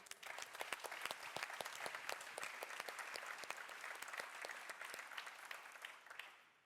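An audience applauds at a startup accelerator demo day in Turin, many hands clapping in a dense, even patter that holds steady for several seconds before fading out.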